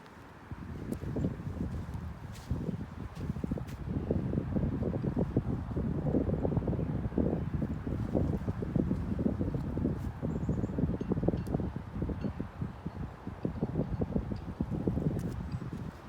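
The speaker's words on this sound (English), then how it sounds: "The wind's starting to pick up again." Wind rising across an open cemetery, a steady blustery rush with microphone buffeting and rustling, continuous and fairly loud throughout, with no talking.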